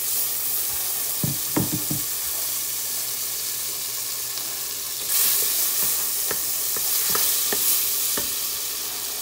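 Butter sizzles in a hot pot at the start of a chicken sauce, a continuous close hiss with scattered sharp utensil knocks and stirring scrapes that grow busier toward the end; no one speaks.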